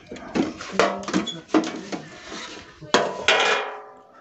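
An old VCD player being opened up makes close handling noises: clunks, knocks and scraping rubs of its casing and parts in uneven bursts, with brief quiet gaps and no talk.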